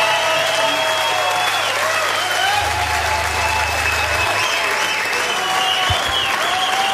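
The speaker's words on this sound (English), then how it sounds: "Another round of applause" An audience at a concert claps steadily and loudly throughout, a thick continuous wash of applause with a faint tonal hum running underneath.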